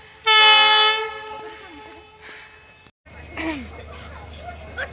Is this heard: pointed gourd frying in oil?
no